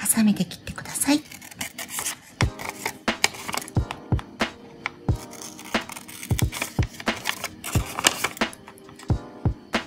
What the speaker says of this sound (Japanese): ハサミで切ってください。